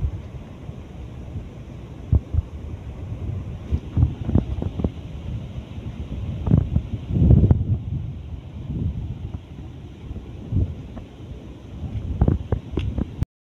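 Strong gusty typhoon wind in Leyte buffets the microphone with a steady low roar, swelling in bursts and rumbling thuds throughout, with no voices.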